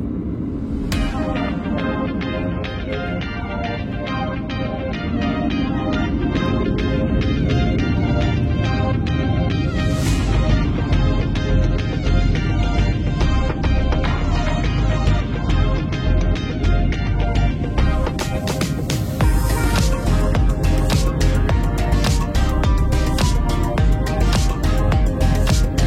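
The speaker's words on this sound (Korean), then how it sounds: "이제 우리 비행기가 이륙할 차례네요." Airliner taking off from the Sydney Airport runway beside the sea, a deep rumbling roar that swells in strength over about twenty-five seconds, with sharper rattling and whooshing bursts building toward the end.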